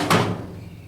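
A wooden shop drawer, lockable, is handled with a single loud knock or slide at the start that trails off into quiet room noise.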